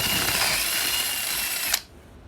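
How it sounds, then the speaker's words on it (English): A power drill finishing a hole through wood for a handmade key holder, running with a steady high whine, loud and close, then stopping abruptly as the bit breaks through. "I can flip it over and finish drilling it"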